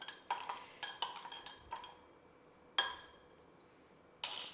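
Spoon stirring rose milk with ice cubes in a glass, a series of bright clinks and rattles, several quick taps then sparser knocks with short pauses, close and clear.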